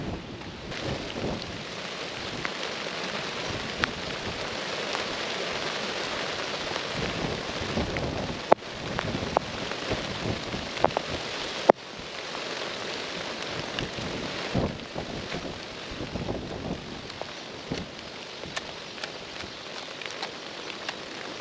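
Steady rain falls outdoors on a small flower farm, a dense continuous patter across the whole stretch with a couple of sharper knocks and a faint low rumble underneath.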